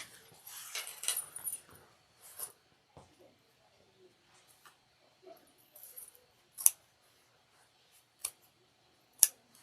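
Scissors snip through fabric and zipper tape for a triangular shoulder bag in a few sharp, separated cuts, close and quiet, with soft handling noises between them.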